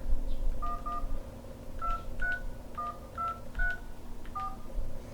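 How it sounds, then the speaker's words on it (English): Keypad tones beep as a number is dialed on a Samsung Comment 2 phone, about nine short dual-tone presses in an uneven rhythm, close and clear over a low background hum. "So I'm going to have to punch out a number here."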